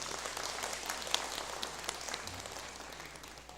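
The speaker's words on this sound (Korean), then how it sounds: "박수 한번 해주시죠" A church congregation applauds together during a Sunday afternoon service, a steady patter of hand claps at moderate distance that slowly fades, with no talking over it.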